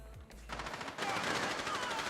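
Rapid automatic gunfire from the video game Rainbow Six Siege, a dense sustained burst that grows louder partway through and runs continuously to the end, with no clear talk over it.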